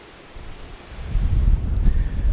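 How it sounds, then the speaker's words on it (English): Wind buffets the microphone outdoors on top of a rocky hilltop, a low rushing roar that swells and grows stronger over a couple of seconds. "Getting quite windy up here on top of the rock."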